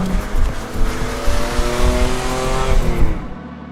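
A 1972 Ford Capri RS 2600 accelerates hard, its engine loud and close as it climbs through the revs, with the pitch rising steadily before it eases off at the end.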